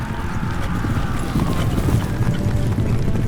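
Cavalry horses galloping in a charge, Polish lancers at Krojanty, with dense, continuous hoofbeats thundering loud and close and no speech.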